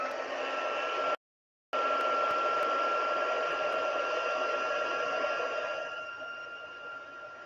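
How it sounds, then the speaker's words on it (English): A crafting heat tool blows a steady, hissing whoosh close by, cut off by a brief silence and then running on, with a faint high whine and a slight fade toward the end. "So bear with me for a minute while my heat tool is on."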